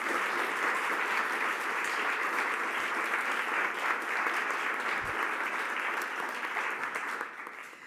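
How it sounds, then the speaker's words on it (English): Audience applause for the jury at a literary prize shortlist announcement, dense, continuous clapping from a large crowd that holds steady and then fades slightly at the end, with no speech over it. "So please give a round of applause for our jury."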